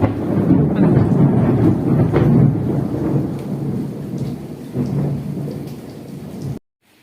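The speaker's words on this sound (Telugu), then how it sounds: "మామూలుగా పడతలేదండి వర్షం అయితే." Heavy morning rain pours down steadily while deep, loud thunder rumbles and rolls through the first several seconds, then the sound cuts off abruptly near the end.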